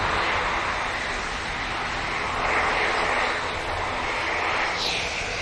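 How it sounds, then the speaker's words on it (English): EasyJet airliner departing Manchester Airport for Geneva, a broad continuous jet engine roar at moderate distance, steady and loud with a slight swell midway. "There goes the EasyJet for Geneva."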